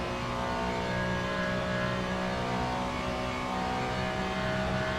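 A Ferrari GT3 race car engine in the Le Mans Ultimate racing game, running at Spa, holding a loud, steady, buzzing high-revving drone throughout with no breaks or voices.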